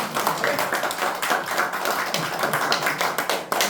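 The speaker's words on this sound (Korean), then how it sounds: "박수 한번." A crowd at a Korean political talk event applauds, dense overlapping claps sustained and fairly loud throughout, with no voices over it.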